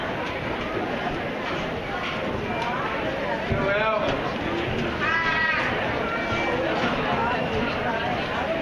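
Meat goats in a class 5 junior livestock show, each weighing 84 to 86 pounds, bleat in wavering cries around the 4 and 5 second marks over constant crowd and arena chatter.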